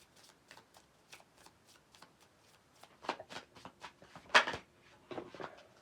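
A deck of oracle cards is shuffled by hand, a run of quick soft riffling flutters that grow louder and denser toward the end, close and alone with no talking.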